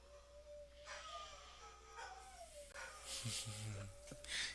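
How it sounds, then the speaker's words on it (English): Dogs howling at a distance, a few long wavering howls and yips rising and falling, faint against a low background hum with some talk nearby. "Hear the dogs howling."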